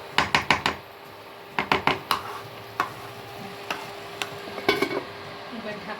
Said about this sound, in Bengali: এরপরে আলুটাকে নেড়ে চেড়ে তারপরে আমি এতে ঢাকা দিয়ে দেবো।